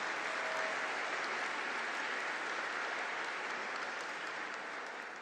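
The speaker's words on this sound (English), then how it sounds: "Let us applaud the accomplishments of the graduating seniors from the Environmental Resources Engineering program" A commencement audience applauding graduating seniors at a fall graduation ceremony, sustained dense clapping from a large crowd in a hall, steady and full before tapering slightly at the end.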